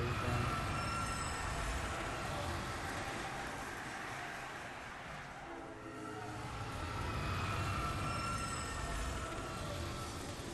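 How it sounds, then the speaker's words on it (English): In the video game DmC: Devil May Cry, a train rushes past with a loud, steady rumble and grinding wheel noise that fades briefly midway and then swells again, with no voices. "Have you ever gotten hit by that bullshit train just now?"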